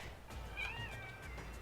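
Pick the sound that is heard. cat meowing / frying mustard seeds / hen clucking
cat meowing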